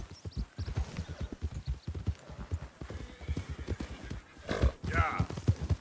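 Hooves from a horse in a PS4 game clatter in a fast, steady rhythm close by. A loud neigh breaks in near the end, and a voice is heard faintly underneath.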